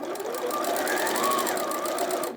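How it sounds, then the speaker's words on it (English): A sewing machine stitches folded fabric close to the edge, a steady, fast mechanical whir of needle strokes running evenly throughout and sounding close, with no talk over it. "I'm sewing from the top side. So these are folded wrong sides together, and I'm just sewing quite close to the edge."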